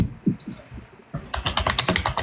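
Rapid clatter of typing on a computer keyboard, close and fairly loud, with keystrokes sparse at first and then growing into a dense, steady burst of clicks.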